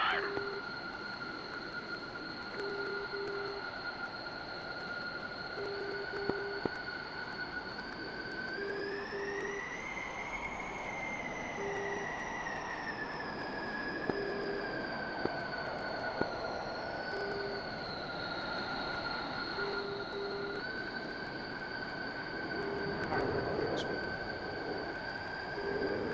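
Jet engine idling and spooling up slightly as the aircraft taxis in a flight simulator game, a steady high whine with rising and falling tone, intermittent short beeps repeating throughout, with occasional quiet talk.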